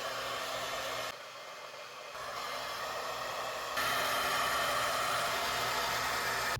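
A hair dryer blows freshly washed, newly colored vivid pink hair dry, a constant close whooshing roar that steps down briefly and then rises louder as the setting or angle changes, with no talk.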